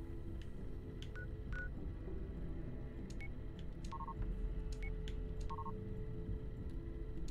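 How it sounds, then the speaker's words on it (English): Keypad access tones in the Fallout 76 video game: several short electronic beeps and paired dual-tone blips spaced irregularly over a steady low game hum, with no talk. "Key card accepted. Keypad access granted."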